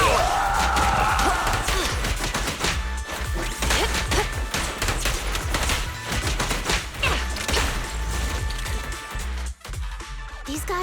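Heavy gunfire rattles through a Zenless Zone Zero battle, with dense loud bursts of shots and crashing impacts packed closely together over the whole stretch, while game music and an occasional voice sit underneath.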